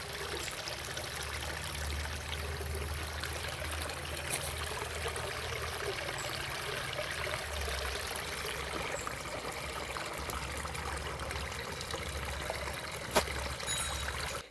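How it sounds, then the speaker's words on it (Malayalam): Water from a dam flowing through a paddy field, a steady broadband rush and trickle that holds evenly throughout, with a low rumble underneath and no voices. "ഡാമിൽ നിന്നെല്ലാം വെള്ളം ഒഴുകി വന്നതാണ് കേട്ടോ. ഇതൊന്ന് കേട്ട് നോക്കൂ"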